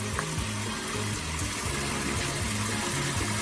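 Water runs steadily over a backyard garden waterfall in light rain, a continuous close splashing rush with a low rhythmic pump-like pulsing underneath and no talking.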